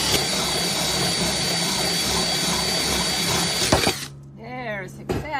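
A drill bores through a quarter-inch-thick piece of glass with water, a steady loud grinding whine that cuts off near the end, followed by a short stretch of speech.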